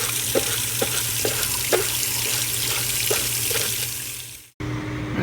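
Water drains and splashes from a Frankford Arsenal wet/dry separator, a steady close rush with small rhythmic clanks before it cuts off abruptly near the end.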